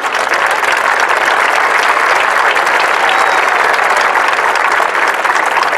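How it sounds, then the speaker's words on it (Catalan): Audience at a Catalan referendum rally in Vic applauding, steady, dense clapping that fills the whole stretch with faint crowd murmur. "Per tant, un altre aplaudiment per ells."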